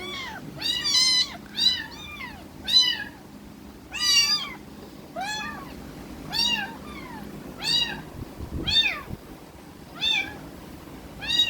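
Hungry kittens meow over and over, about a dozen clear, close cries in an uneven rhythm, some overlapping, above a faint low background rumble.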